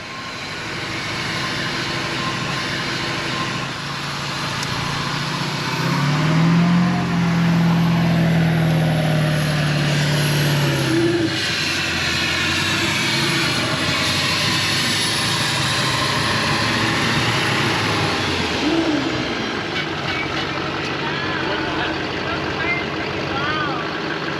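A Ford Excursion stretch limo on new tires rolls out of a fabrication shop, its engine a loud, steady rumble with a brief low tonal rise early on, carrying throughout under a broad roar.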